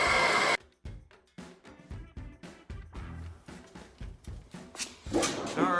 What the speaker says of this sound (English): Now we're going to run this thing through the Pittsburgh machine.